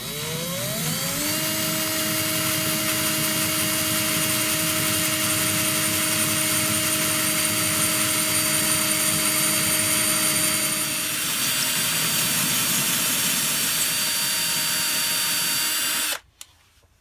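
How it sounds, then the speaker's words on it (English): A power drill bores slowly through material while a stove is fitted on a narrowboat, a steady loud whine with a rising start that runs for about sixteen seconds and then cuts off abruptly. "we'll start drilling, and the key is to go slowly and just let it cut its way through."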